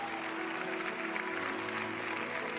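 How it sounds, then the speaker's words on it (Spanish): A church congregation claps steadily and loudly, a dense wash of applause that holds throughout. "Vamos a darle un fuerte aplauso al Señor el día de hoy."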